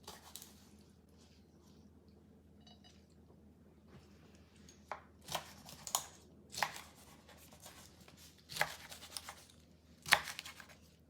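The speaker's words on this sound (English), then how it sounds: "Cut it however you like, just get them into small pieces." Ingredients for a drink being cut into small pieces on a board, faint at first, then a series of crisp knife cuts at irregular intervals, close and quiet, with no talking.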